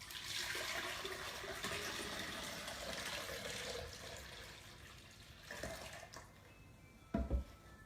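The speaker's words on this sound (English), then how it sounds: "So what I'm going to do is just divide this water between my 2 pitchers here." Cold water from a gallon jug pours steadily into two pitchers for continuous-brew kombucha, a continuous watery rush for several seconds, then quieter, with a brief louder splash near the end.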